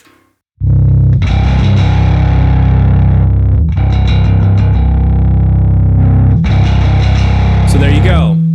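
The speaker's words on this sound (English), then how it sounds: "It just kind of boosts the signal into the hot end distortion circuit" Bass guitar played through The Growler plugin with its hot circuit engaged, pushing the upper mids and top end into distortion; loud, sustained distorted notes ring out in three long phrases with brief breaks between.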